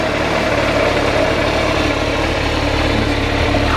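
A standard motorbike engine idles steadily and smoothly at about 1,000 RPM, a constant, even low hum that stays close and moderately loud throughout, with no talking.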